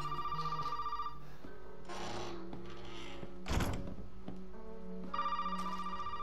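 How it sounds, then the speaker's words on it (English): A telephone rings in the video game Resident Evil 7, two bursts of ringing at the start and end with a dull thud and footsteps between them, all fairly quiet. "now the phone's ringing"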